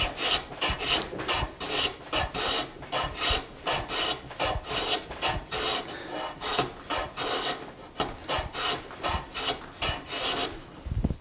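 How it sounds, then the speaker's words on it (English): Harbor Freight No. 33 bench plane cutting end grain wood, a series of quick rasping strokes in steady rhythm, close and clear with no talk. "making some nice end grain shavings."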